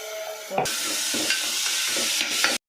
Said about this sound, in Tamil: இந்த வெங்காயத்தையும் போட்டு வதக்குவோம்